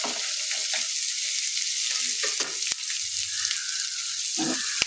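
Ginger and garlic sizzle in hot oil after mustard seeds have spluttered, a steady bright frying hiss with a few small pops and crackles, close and continuous.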